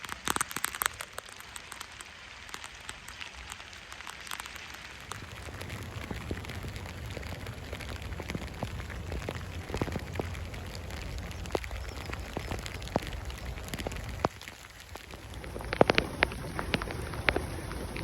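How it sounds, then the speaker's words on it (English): Rain falls outdoors during a local dog walk, a steady patter of drops striking a surface and a waterproof jacket, growing denser partway through, with scattered louder taps and rustles close by. "we finally got some rain"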